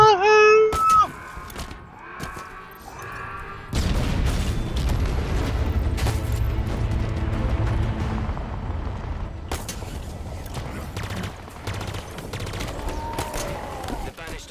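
Large gun generator blown up in the video game Halo Infinite, a loud sustained rumble of explosions and crackling gunfire that rolls on for several seconds after a brief quiet start, with game music and sound effects layered on top.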